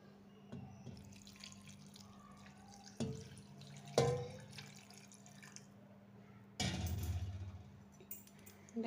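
Water is poured into a pressure cooker over rice, onions, mint, chicken masala and ghee for a mushroom biryani, coming in a few short splashing bursts, soft and close, with quiet pauses between.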